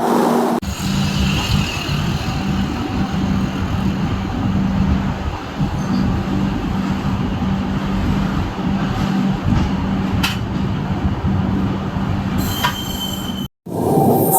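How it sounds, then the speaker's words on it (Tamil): The Navajeevan Express rolls along the rails after leaving Gudur Junction, a loud continuous rumble of wheels and carriages with a steady hum and occasional squeals, heard from on board, ending in a brief abrupt cutoff. "நம்ம வண்டி டிபார்ட்டட் ஃப்ரம் கூடூர் ஜங்ஷனுங்க"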